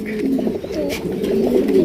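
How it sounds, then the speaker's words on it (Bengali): Lahori pigeons coo steadily at a pigeon farm, their low throaty calls repeating in overlapping rolls close by, with no voices over them. "গেরে বা লাহুরি কবুতর খুবই সুন্দর"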